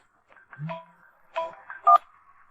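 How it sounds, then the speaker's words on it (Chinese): A phone rings with a short melodic electronic ringtone: a few chirpy, tonal beeps that grow louder toward the end, heard close in an otherwise quiet room. "这么晚，谁的电话？"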